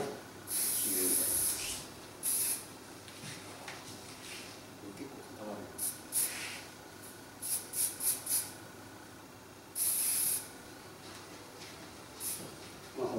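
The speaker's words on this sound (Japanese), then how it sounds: "じゃあ、若干スプレーを入れるみたいな。" Hairspray sprayed onto long hair during stage styling, several short bursts of hiss, some brief and some lasting about a second, spaced apart while a person talks throughout.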